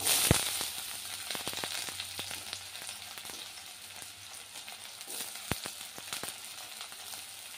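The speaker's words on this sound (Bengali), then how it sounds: "লঙ্কাটা ভাজা হোক, এবার দিয়ে দেবো পেঁয়াজ" Green chilies fry in oil, sizzling and crackling steadily in a pan, with sharp pops scattered throughout and no voices.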